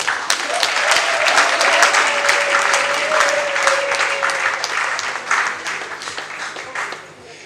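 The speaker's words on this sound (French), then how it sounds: "Nous vous prions de bien vouloir applaudir très fort le nouveau curé de l'année." Sustained applause from a church congregation welcoming a new parish priest, a dense wash of many hands clapping loudly for several seconds before tapering off at the end.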